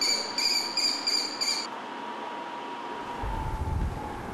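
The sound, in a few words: eaglets cheeping in the nest, heard through the nest microphone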